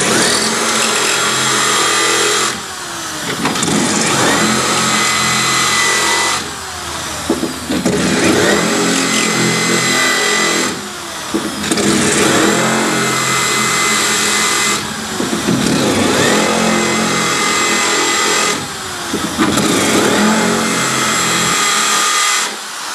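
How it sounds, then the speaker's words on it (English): A power tool pre-cutting acrylic before drilling for micro jets, whining loudly and close in several long bursts of a few seconds each with brief pauses between. "I'm going to pre-cut so you don't crack the acrylic"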